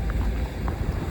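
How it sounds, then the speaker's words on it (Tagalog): Strong wind rushes steadily outdoors in a Calgary, Canada winter snowfall, a loud, close blustery roar with heavy low buffeting against the microphone throughout. "Ang lakas ng hangin."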